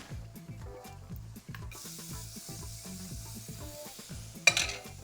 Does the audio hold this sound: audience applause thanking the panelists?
no